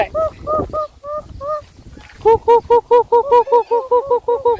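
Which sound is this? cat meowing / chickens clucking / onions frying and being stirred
chickens clucking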